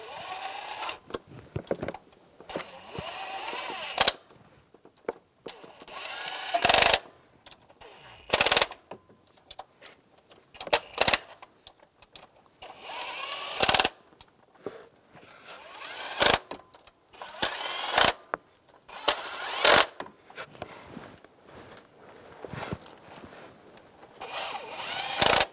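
Bolts on a coolant crossover pipe of a 2011-2018 Ram 1500 are snugged down with a power tool, heard as short, loud bursts of rapid rattling whir separated by pauses, close and with no talk.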